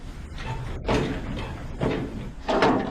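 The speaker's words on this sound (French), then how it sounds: "Bon, la porte est verrouillée." A locked prison door on Devil's Island being tried, three rattling knocks and thuds as it is pushed and pulled, evenly spaced and close, with no talk.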